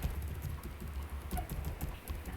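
Quick, even keystrokes on a computer keyboard, typed close up in a brisk continuous rhythm with no voice.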